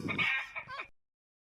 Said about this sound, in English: them chickens are kind of loud